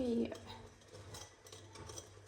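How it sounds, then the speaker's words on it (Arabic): Starch gets stirred gently into a homemade cookie mixture in a bowl, giving soft, quiet scraping and tapping strokes at close range, with a brief voice at the start. "ونبدا نخلط غير بشويه حيت عارفين نتوما النشا خفيف"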